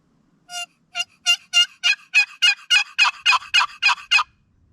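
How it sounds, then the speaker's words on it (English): A wild turkey gobbles in a quick run of about a dozen sharp, evenly spaced notes, clear against a quiet background. "Hopefully we can get one of these turkeys to gobble."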